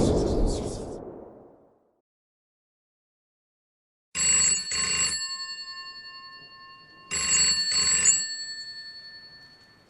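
Telephone ringing in two loud, bright bursts of bell-like trills, each about a second long and separated by a pause, after an opening rumble that dies to silence.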